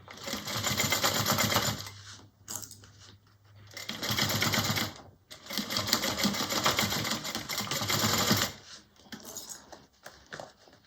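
Sewing machine stitching the exterior seam of a small bowler bag, close fast whirring runs of stitching in two long bursts separated by short pauses, with handling clicks near the end.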